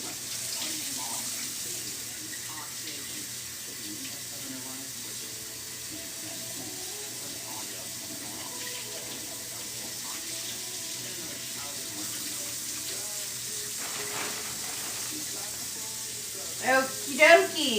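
Running water from a tap pours steadily over a tie-dyed shirt being rinsed, a continuous close hiss and splash with faint handling near the end.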